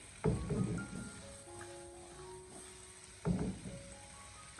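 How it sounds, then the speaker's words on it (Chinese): Potatoes and carrots, blanched beforehand, are tossed back into a hot wok over high heat, giving a steady low sizzle with two louder bursts of scraping and clattering as the food is flipped. "我们再将这个焯水后的土豆还有胡萝卜重新回锅，再继续的将它大火快速翻炒一下"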